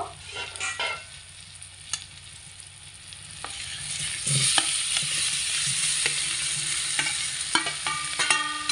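Fried potato and pumpkin pieces are stirred into sizzling spices, starting with a few scraping stirs and a burst of louder frying when they drop in, then a steady close sizzle with intermittent utensil clicks.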